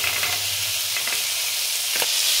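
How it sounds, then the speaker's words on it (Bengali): Peas and chopped carrots sizzle in a pan for vegetable fried rice, a steady close frying hiss with a few soft stirring scrapes. "এবার পরে মটরশুঁটি দিচ্ছি।"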